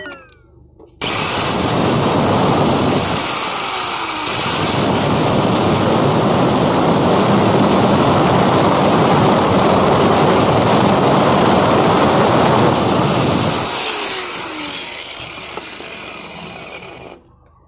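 An angle grinder works steadily on a metal part of a Mitsubishi Adventure side mirror retract mechanism, loud and continuous with a high whine, running for most of the stretch before winding down near the end.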